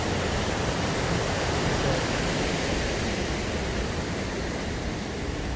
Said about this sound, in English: And it's pouring the rain down.